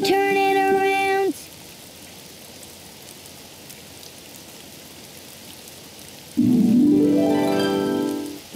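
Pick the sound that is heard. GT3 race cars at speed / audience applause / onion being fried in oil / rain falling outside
rain falling outside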